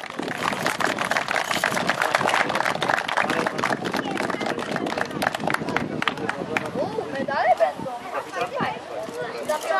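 Applause breaks out for the sixth-place team at a youth football tournament ceremony, dense clapping from a nearby crowd that swells then thins, with voices chattering underneath.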